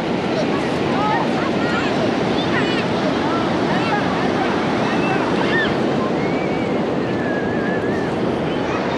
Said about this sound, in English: Waves look like they're decent.